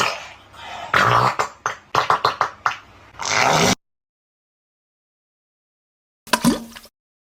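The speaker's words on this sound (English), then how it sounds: "This is how the farting sound effect from cats_gacha sounds like." Short, wet, sputtering fart noises from the cats_gacha sound effect come in a rapid burst of squelchy pops and a longer rasp, then silence, then one final brief squeak.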